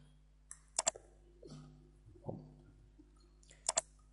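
Quiet computer mouse clicks at a desk while dragging buttons in a programming editor, a few sharp double clicks spaced apart with faint shuffling movement between them, close and isolated over a low electrical hum.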